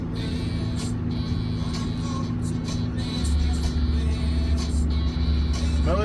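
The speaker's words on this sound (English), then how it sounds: "And this little car does not drive on wet dirt roads." A small car drives along island roads past a large school campus, heard from inside as a steady low engine drone that grows louder and rougher about halfway through, with no talking.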